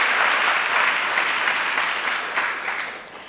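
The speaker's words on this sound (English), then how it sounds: "One more big round of applause," Sustained audience applause at a film festival awards ceremony in Austin, Texas, a steady wash of many hands clapping that tapers off toward the end.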